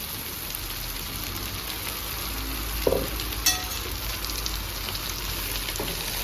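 Okra sizzles steadily in a pan with browned onions, a soft even crackle with a couple of brief clinks partway through, close and moderately quiet with no talk.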